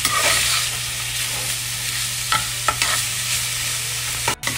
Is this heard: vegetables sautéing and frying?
yes